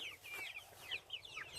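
Chickens on a farm pasture at dawn give soft, scattered clucks and short calls, fairly faint and close, with a few brief clucks overlapping in quiet surroundings.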